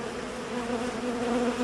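Honey bees hum steadily around a Ukrainian-frame beehive with three supers, a close, continuous buzzing drone.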